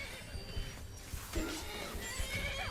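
A horse in Skyrim neighs briefly amid clattering hooves and game background noise, fairly close but partly masked.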